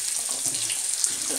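Water pours steadily into a pan of Nepali fish curry, a continuous close splashing hiss with no talk.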